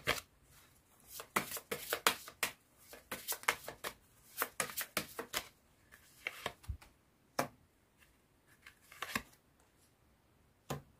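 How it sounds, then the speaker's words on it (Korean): Tarot cards being shuffled and drawn from a deck, a run of crisp papery flicks and snaps in quick irregular bursts, close and fairly quiet, with no talking. "지금 좋은 점 카드 뽑아보도록 할게요."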